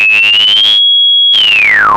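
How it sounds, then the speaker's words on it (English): A sine wave passes through a waveshaping algorithm in Bitwig 4.3, a bright, harmonically rich tone that thins to a pure steady whistle, then returns buzzier and sweeps downward in pitch. "If I'll add it to my sine wave, when I'll start cranking the knob in here"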